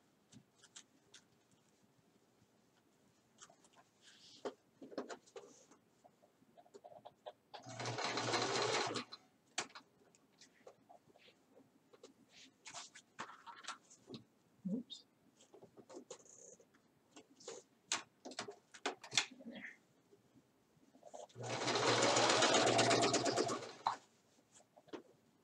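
A domestic sewing machine stitching the hem of pajama pants, with two loud, steady whirring runs of a few seconds each. Between them come quiet clicks and handling of fabric.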